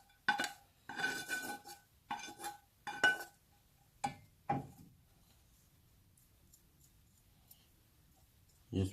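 Onions placed over biryani rice in a metal pot give a series of close clinks and scrapes of a utensil against the pot, clustered in the first half and then fading to quiet.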